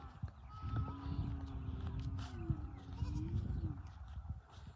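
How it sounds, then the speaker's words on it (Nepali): Goats bleating on a Nepali village farm, a few drawn-out wavering calls over a busy rustling background, moderately close. "यहाँ बाख्रा पनि बनाएको छ बाख्रालाई खोलिदिन्छु"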